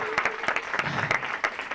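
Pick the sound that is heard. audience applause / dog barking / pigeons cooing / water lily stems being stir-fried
audience applause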